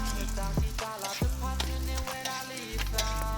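Roti dough frying in a pan of bubbling hot oil at a street vendor's stall, a steady close crackling sizzle with occasional louder spits and pops, no talking.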